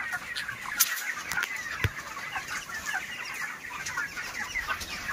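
Broiler chickens about 28 days old cluck and chatter steadily in a farm shed, a dense continuous flock murmur with occasional sharper calls standing out.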